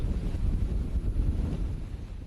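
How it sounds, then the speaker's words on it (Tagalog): Strong storm wind buffets the microphone in Batangas City, a steady low roaring gust with pulsing surges throughout, heavy rain blending into the dense rumble. "hanggang ngayon ay binabayo ng malakas na ulan at mas malakas pang hangin ang Batangas"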